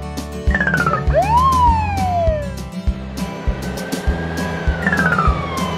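A Brazilian police car siren wails in rising and falling sweeps, repeating over a rhythmic music bed with clear, fairly loud tones.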